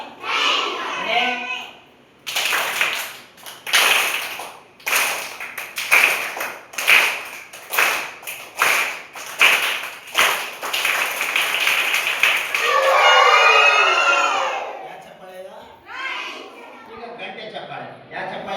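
A group claps out a rhythmic 'train clap' pattern: a steady run of sharp, even claps that gathers pace. Near its end a sliding, whistle-like vocal sound joins in, likely imitating a train, and then voices talk.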